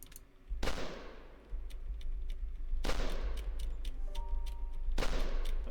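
Pistol gunshots in a VRChat weapons system: three sharp, loud cracks spaced a couple of seconds apart, each with a short decaying tail, over light clicks and a low background hum, with no talking.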